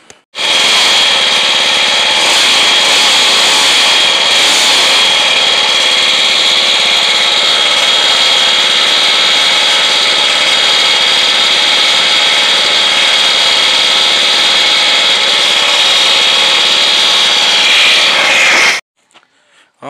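A 4-stroke engine on an automatic motorized bicycle runs close by with a loud, steady, buzzing drone that holds level for nearly twenty seconds before stopping abruptly.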